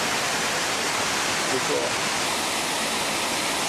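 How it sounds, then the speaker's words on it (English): Two rivers, the Brownstone and the Tyler Fork, rush together at a fork in Canada, making a steady broadband roar of churning water, close and continuous, with a brief spoken remark over it. "They're both flowing into that fork."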